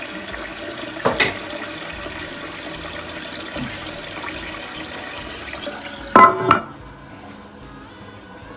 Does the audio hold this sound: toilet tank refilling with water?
yes